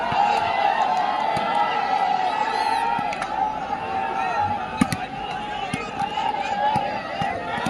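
Spectators at a kacchi shooting volleyball tournament in Manuke Gill, Moga clap and cheer in a loud, steady crowd roar, with an announcer talking over it on a PA.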